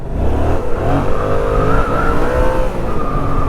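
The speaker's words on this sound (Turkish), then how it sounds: "Güzel lan tekerle kalkıyormuş gibi oldum ha. Direkt teker aldım ya arkadaşlar." A small motorcycle revs hard and accelerates, its engine roaring loudly and steadily up close with rising tone and wind rush, with no talking.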